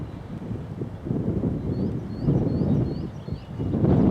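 Wind buffeting a microphone outdoors on a country walk between Haslemere and Midhurst, England, gusting in low rumbling waves, with faint birdsong chirping in the background.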